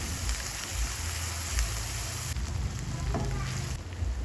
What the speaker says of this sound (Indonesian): Kita tumis hingga warnanya, aromanya keluar, wangi dan berubah warna agak kecoklatan.